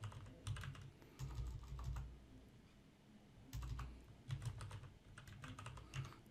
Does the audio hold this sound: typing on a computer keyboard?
yes